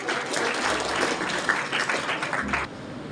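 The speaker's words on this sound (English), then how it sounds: "Clap for him." Students clapping together at a school morning assembly, a steady, dense burst of applause lasting a few seconds before cutting off.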